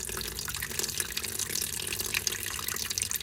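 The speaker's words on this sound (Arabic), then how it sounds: "ننزل بميه مغليه في صينيه" Boiling water pours from close by into a baking tray, a steady splashing, gurgling stream that runs without pause and with no voices over it.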